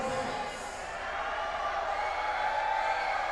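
A crowd at a basketball elimination game of the Ako Bicol Cup in Pamplona, Camarines Sur makes a dense, steady roar, with a commentator talking over it.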